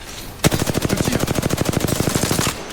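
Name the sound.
gunfire in the video game Apex Legends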